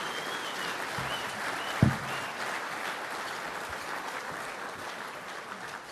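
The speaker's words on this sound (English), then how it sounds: "Would you give a big round of applause to the great Australian," An audience applauds steadily, a dense wash of clapping with one sharp louder clap near the start, continuing without voices.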